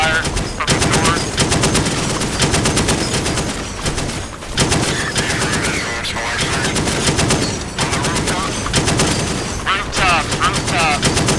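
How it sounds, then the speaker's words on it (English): Small arms gunfire in the combat game DCS World, with dense, continuous rapid bursts of machine-gun and rifle shots filling the whole stretch, loud and close, while voices call out over the radio under the firing. "We're taking small arms fire from the north."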